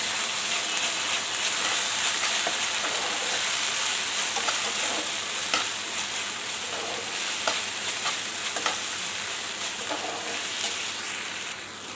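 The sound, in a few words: stirring fried onions with tomato and chilli sauce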